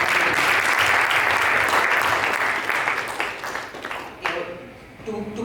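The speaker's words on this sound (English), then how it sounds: "So a big round of applause to our current EC." Warm, full audience applause at a community volunteer appreciation event rolls on strongly, then tapers off, and a speaker resumes talking over the last scattered claps.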